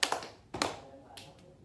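A few quick, light hand claps or pats during a group clapping game in a small room, three or four close, soft strikes in an uneven rhythm, fading out near the end.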